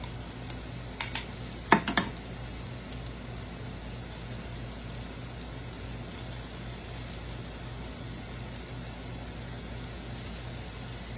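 Celery sizzles in butter in a pan for a Southern chicken dressing, a steady close fry with a few sharp clatters early on, then an even crackle alone.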